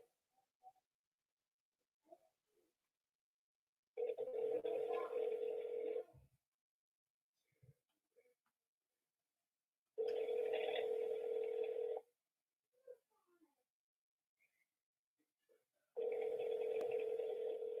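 Automated phone tree tones on a telephone call: three two-second bursts of steady dial-type tone at even six-second intervals, moderately loud, with faint clicks and quiet gaps between them.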